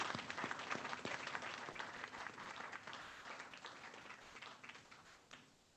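Faculty senate members applaud a retiring colleague, a faint, steady patter of hands that thins and fades near the end.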